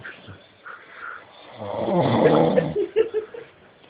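A sleeping man snores, one long rasping snore building in the middle with fainter breathing sounds before and after, close to the microphone.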